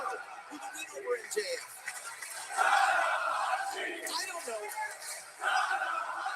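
A Toronto wrestling crowd cheers for Hiroshi Tanahashi, a large arena roar swelling in waves, surging louder midway and again near the end, with commentators talking over it.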